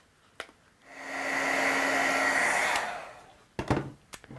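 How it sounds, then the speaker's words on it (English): A die cutting machine runs card designs through with a steady, smooth motor whir lasting about two seconds, framed by sharp clicks and handling clatter before and after. "I'm going to run these through my die cutting machine"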